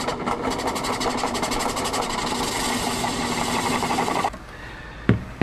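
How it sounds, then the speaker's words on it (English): A circle cutter bores a fan hole in a pump enclosure with a fast, steady mechanical whir for about four seconds, then stops abruptly, followed by a brief sharp knock. "Another option is to use a circle cutter like this and just set it to the approximate radius of your fan opening."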